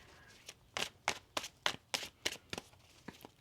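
A deck of tarot cards is shuffled in a quiet room, giving about ten soft, crisp taps and riffles in a steady, uneven rhythm, close and faint.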